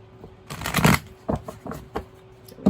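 Hand-shuffled tarot cards, a dense burst of riffling card noise followed by several distinct crisp taps and slaps spaced out, close and clear with no voices.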